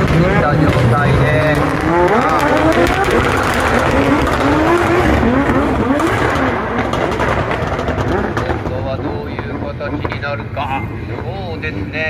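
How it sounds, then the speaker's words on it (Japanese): D1 Grand Prix drift cars at the Tokyo Auto Salon 2024 Kick Off Drift sliding with squealing tires and loud engines, a steady roar throughout with commentary talking over it. "今日1回目のこの D1 グランプリ、キックオフドリフト"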